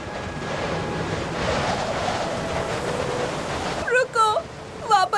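Steady broadband wind blowing through an animated Indian folk tale scene, a continuous rushing gust for about four seconds before a voice speaks over the fading wind near the end.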